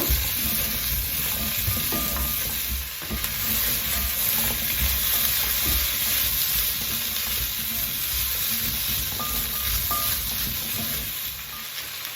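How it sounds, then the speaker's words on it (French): Pumpkin (potimarron) with thyme cooks in a pan over medium heat, making a constant, close, even sizzle that holds steady throughout with no voices over it. "Et je laisse cuire pendant environ 5 minutes à feu moyen."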